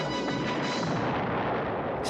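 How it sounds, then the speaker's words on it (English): Explosions in a flight simulator game make a dense, loud, continuous roar of blasts and rumbling that fills the short clip, with no talk. "Explosions."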